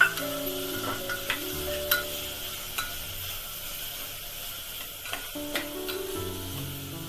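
Vegetables such as cauliflower and soya chunks frying in oil in a pan for vegetable daliya, giving a steady close sizzle with occasional clinks and scrapes of a stirring spoon throughout.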